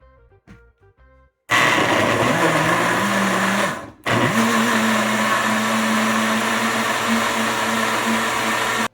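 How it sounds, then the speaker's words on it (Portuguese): A kitchen blender whirs loudly as it blends mango ice cream mix with whole milk into a smooth paste, starting abruptly, cutting out briefly, then running steadily again at a high motor pitch. "bateu bastante aqui no liquidificador"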